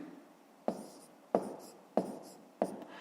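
Numbers written by hand on paper in a math lesson, heard as four evenly spaced pen strokes, each a sharp tap trailing into a scratch, close and quiet with no voice.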